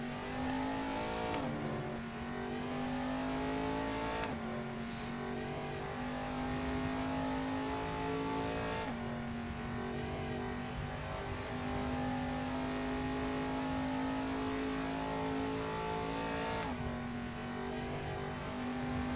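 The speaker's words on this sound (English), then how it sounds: "Smoke the tyres. Just getting a bit of heat into them." A race car's engine held at a high steady drone while smoking its tyres to heat them, loud and continuous with slight pitch shifts throughout.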